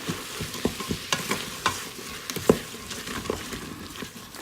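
Chili ingredients and spices frying in an Instant Pot while being stirred, a close sizzle broken by repeated sharp scrapes and knocks of the spoon against the pot, without talking.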